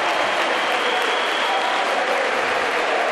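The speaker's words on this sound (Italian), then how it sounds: "esce tra gli applausi meritatissimi del pubblico" Basketball arena crowd at a semifinal game applauding steadily as a player leaves the court, a dense, loud and continuous wash of clapping with no break.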